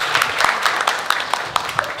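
An audience applauding a judge at a model hunt pageant, rhythmic clapping with distinct individual claps standing out, moderately close, with faint voices underneath.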